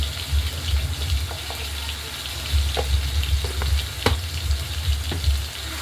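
Spices for a fish curry with chili powder and salt fry in oil in a pan, giving a steady broadband sizzle with a low rumbling bed and a few soft clicks of a utensil now and then.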